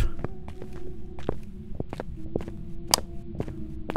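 Ghost footsteps in the horror video game Phasmophobia: a run of sharp, irregular thuds at a quick pace, moderately loud against a steady low hum, with no voices over them.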